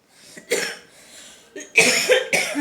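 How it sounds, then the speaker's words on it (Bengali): A woman with a cough lasting two or three months coughs repeatedly at close range, a few separate hoarse coughs followed by a tighter burst of three or four in quick succession. "এত কাশি হচ্ছে বলার না"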